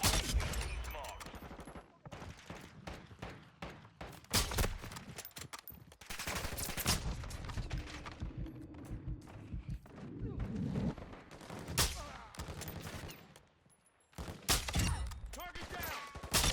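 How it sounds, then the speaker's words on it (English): Sustained gunfire bursts and heavy shots in Call of Duty: Modern Warfare II during a bounty mission at El Asilo, loud and near, with gaps and clustered volleys; game voice callouts occur. "Taking effective fire!"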